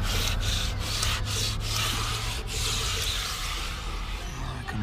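A toothbrush scrubs down into a crack in a car's interior, giving rapid, close, continuous bristly rubbing with brief rhythmic strokes and no voices.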